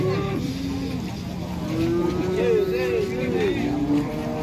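Cattle on a farm, a pair of cows hitched together that refuse to walk, with mooing-like tonal calls rising and falling in the middle and latter part of the clip, heard close under ongoing background talk and outdoor noise.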